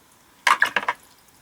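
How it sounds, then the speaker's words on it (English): Water flicked from a clean paintbrush onto paper, a quick run of four close, crisp spatters within half a second, with nothing else heard around them. "splatter a clean brush with water"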